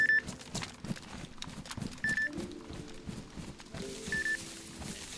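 Repeated short electronic beeps from a planted C4 charge in the survival video game DayZ, three evenly spaced pairs of high tones over a busy background of game noise and movement.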